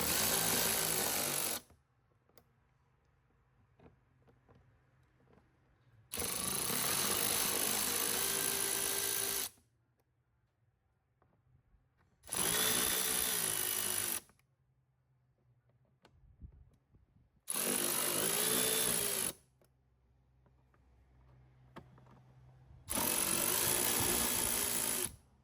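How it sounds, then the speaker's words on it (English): A ratchet works on the air filter box screws of an Audi A1 with a 1.8 TFSI engine, making five loud, close bursts of a few seconds each, separated by quiet pauses. "you get these out with a normal ratchet"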